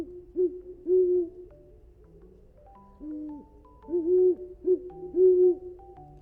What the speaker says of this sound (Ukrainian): Сова, пугу, пугу, повертає голову.